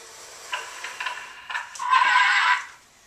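A toy horse gives a mechanical, tinny whinny, preceded by a few soft clicking clip-clop taps, then one sustained bright neigh ending abruptly; close and fairly quiet, with no talking.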